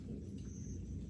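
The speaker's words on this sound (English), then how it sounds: "it's getting ready to storm here." Low, steady rumble of thunder from an approaching storm, a continuous distant roll with no talk.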